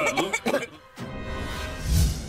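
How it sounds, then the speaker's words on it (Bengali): Cartoon passengers coughing aboard an airplane cabin filled with knockout gas, a few short harsh coughs at first, then a brief pause and a low rumbling burst. "সে কি কাশি সবার"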